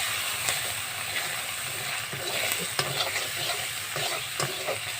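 Bhola fish masala with turmeric, cooked without oil, is stirred steadily in a pan, a continuous soft scraping and faint sizzle close by, with occasional sharper ticks of the spoon against the metal.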